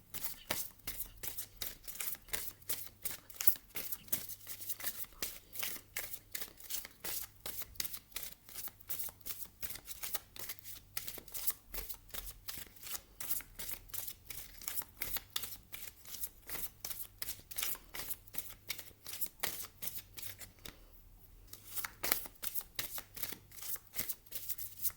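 Tarot cards are handled and shuffled continuously, a quiet, brisk run of papery flicks and snaps repeating in a steady rhythm for the whole stretch, with no voices.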